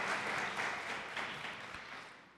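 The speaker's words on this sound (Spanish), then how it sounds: "Aplauso para Paulina." A studio audience on a Spanish-language quiz show applauds steadily, a dense, even wash of many hands clapping that holds for a couple of seconds without any speech over it.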